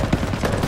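Burst of MG-42 machine gun fire in the Call of Duty WWII video game on a PS5, a brief, dense rattle of rapid shots amid battlefield noise with tanks advancing.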